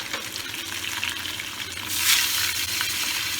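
Fresh rohu fish pieces fry in hot oil with a steady close sizzle that swells louder partway through, with no talking.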